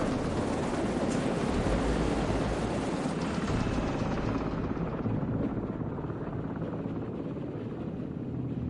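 A helicopter in a GTA video game drones with steady, loud rotor wash and roaring turbine noise throughout, the broadband rumble thinning slightly in the upper range toward the end, with no voices over it.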